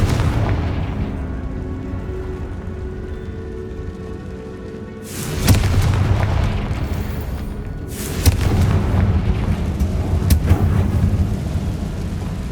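A Confringo fire spell in the Hogwarts Legacy video game explodes twice as loud booming blasts, one at about five seconds and one at about eight, each leaving a rumbling roar over a low ambient game soundtrack.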